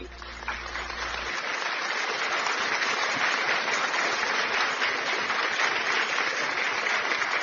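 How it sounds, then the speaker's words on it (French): A congregation applauds during a church service in a dense, steady wash of clapping that continues without pause, with voices mixed in beneath it. "applaudis pour le Seigneur Jésus-Christ de Nazareth."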